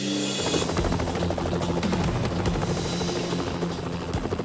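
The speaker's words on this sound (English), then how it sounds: "the AGL Action Rescue Chopper, and SES volunteers have started an extensive search for Stuart Gatehouse" A rescue helicopter flies overhead during a search in the Queensland hinterland, its rotor thudding loud and steady throughout with a broad engine roar.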